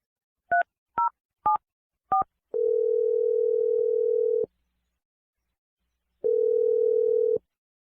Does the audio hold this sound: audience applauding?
no